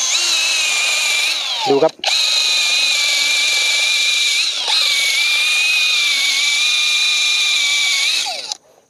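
Cordless IMAX IMCD-20BL drill whines steadily at high speed, loud and close, running almost continuously for about eight seconds with a brief stop near the two-second mark; a voice speaks briefly.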